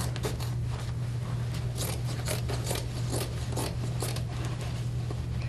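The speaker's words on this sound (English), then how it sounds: "we're going to cut this apart" Scissors snip repeatedly through fabric as an old garment is cut apart along its seams, a string of close, crisp cuts over a steady low hum.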